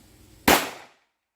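A single sharp, loud shot from a Girsan 1911C pistol firing 230 grain .45 ACP brass ammunition, a sudden crack with a short decaying tail after quiet, then silence.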